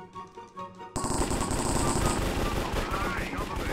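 Rapid automatic gunfire in Minecraft rattles steadily after a quieter opening with softer game sounds, dense and continuous at close range.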